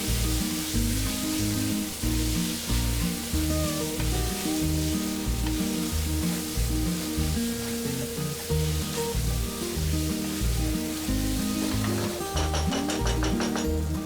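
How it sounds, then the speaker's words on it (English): Mutton pieces coated in homemade masala sizzle in ghee for a South Indian ghee roast, a loud constant frying hiss with background music playing throughout and nobody speaking. "fry it for about 3 to 4 minutes. Let the masala nicely infuse with the meat"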